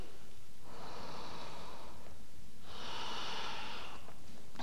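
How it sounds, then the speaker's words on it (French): A student in a vinyasa yoga class takes two long, slow, deep breaths, one after the other. Each breath is an airy rush heard up close, with nothing else in the background. "Dernière respiration."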